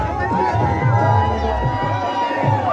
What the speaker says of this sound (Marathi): उत्साही जल्लोष करताना